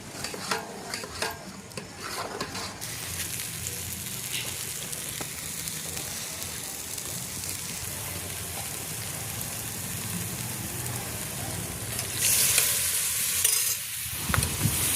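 Village-style chicken masala being sautéed in a pan, a continuous loud sizzle with scraping stir strokes, steady throughout and without talk.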